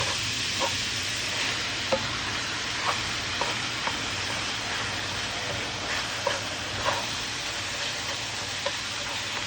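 Ground beef browning in a pot for chili gives a steady, soft sizzle throughout, with occasional light scrapes and clicks of stirring spaced every second or so.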